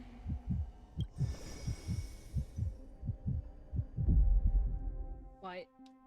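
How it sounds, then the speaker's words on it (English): Heartbeat in the video game Honkai: Star Rail, a steady series of low, deep thumps in a regular rhythm, fairly loud and close, with a brief higher tone near the end. "Why can I hear her heartbeat?"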